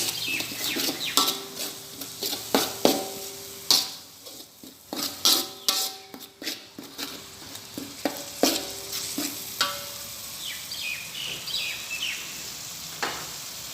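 Sweet shredded beef being stirred in a frying pan, with repeated scraping strokes and clinks of the utensil against the pan over a steady sizzle, close and fairly loud, no talking.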